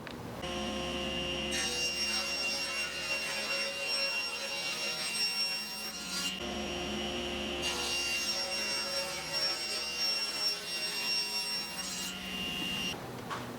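Table saw ripping a sheet of plywood lengthwise for a mobile wood storage bin, a loud continuous whining cut with a steady motor drone and a brief change in pitch midway, alone without talk.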